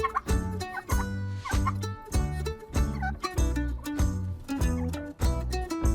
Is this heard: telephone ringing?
no